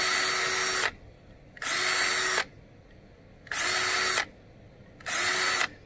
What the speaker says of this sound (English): just see if we can't drill a couple holes here real quick